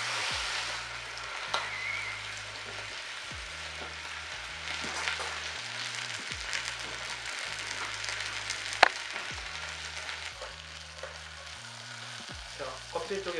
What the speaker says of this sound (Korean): 껍질을 지져주겠습니다.